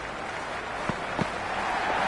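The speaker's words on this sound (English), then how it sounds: "this crowd is already making it hard for me to be heard" A T20 cricket crowd cheers and claps as a dense, steady roar that builds slightly, with a couple of sharp claps standing out.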